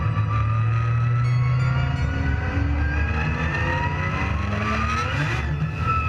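A loud Pro S14 race car engine roars steadily close by, its pitch climbing and shifting as it revs and drives, with no voices.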